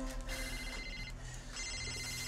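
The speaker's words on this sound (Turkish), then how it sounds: "telefonun çalıyor" A telephone rings in a domestic scene, steady electronic tones repeating under a dense, busy background.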